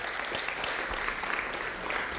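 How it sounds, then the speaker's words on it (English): Steady applause from an audience at a university public lecture on dietary habits and kidney disease, continuous clapping throughout with no breaks. "A round of applause, please."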